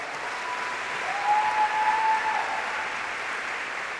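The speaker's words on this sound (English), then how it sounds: "So let's give her a round of applause for that." Audience applause at a high school scholarship signing event, a steady wash of clapping from a seated crowd that swells slightly midway and holds evenly throughout, with no talk over it.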